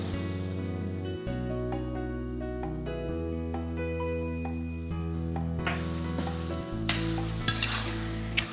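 Sliced mushrooms sizzle steadily in a frying pan as a pinch of nutmeg goes in and they are stirred, a continuous close crackle under a bed of background music, with scraping stir sounds growing near the end.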